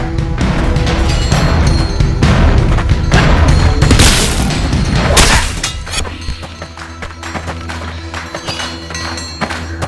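Sword strikes and clashing blows in the VR combat game Blade & Sorcery: a run of loud, sharp impacts and booming crashes in quick succession, then lighter clangs and taps continuing under a steady game ambience.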